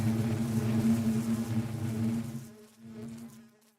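Bees from the Productive Bees mod in Minecraft drone in a steady, close insect buzz that holds for about two and a half seconds, then drops away and returns more faintly.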